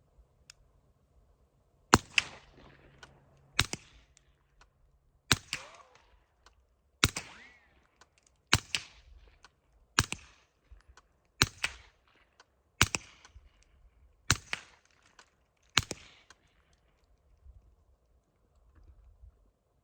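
A Spc9 PDW fitted with a Wolfman suppressor and loaded with 150 grain Syntech ammo fires about ten muffled, sharp shots at an even pace, roughly one every second and a half, with quiet gaps between them.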